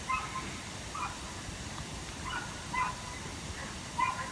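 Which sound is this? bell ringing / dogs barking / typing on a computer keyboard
dogs barking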